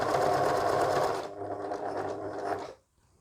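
Sewing machine stitching cotton fabric for a beginner sleep mask, a steady loud mechanical whir that continues for about two and a half seconds, then stops abruptly into silence.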